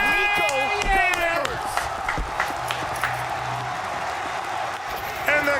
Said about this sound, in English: the crowd is going fucking crazy for Nico